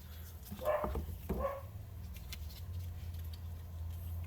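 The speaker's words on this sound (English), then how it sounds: "There's a dog barking in appreciation" A dog barks twice in the background of a kitchen, two short, fairly faint yelps about half a second apart, followed by quiet room hum.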